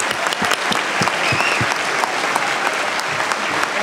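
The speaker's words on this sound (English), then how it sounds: "Give them a big round of applause, everyone." Audience applauds debate candidates at a Conservative Party debate, a steady wash of clapping from a sizable crowd with distinct nearby claps standing out, sustained without pause throughout.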